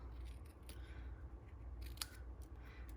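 Scissors snip through paper card pieces during card making at a craft table, a few quick close cuts over a steady low background hum, with no talking.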